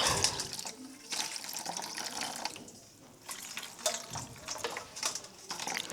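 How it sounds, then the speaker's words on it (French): Pandanus root juice is poured from a beaker onto a crab, giving a close, trickling, splashing stream of liquid that rises and falls in short uneven pours. "On prend notre bécher et on verse sur le crabe."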